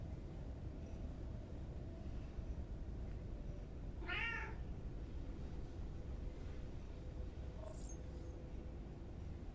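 A cat gives a single short meow midway through, clear but not loud, over a steady low hum, followed by a faint brief chirp near the end.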